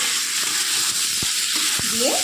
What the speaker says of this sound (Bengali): এবার ভেজে রাখা আলু, ওলকপি আর বিনসগুলো দিয়ে দিল। এবার মশলার সাথে ভালো করে একটু কষিয়ে নেবে